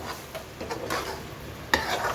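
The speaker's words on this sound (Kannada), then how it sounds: "ಒಗ್ಗರಣೆ ಆಗಿದೆ ಇವಾಗ" Steady sizzling of a tempering with turmeric in a hot pan, with scattered scraping and light metallic clinks from stirring, close up and without voices.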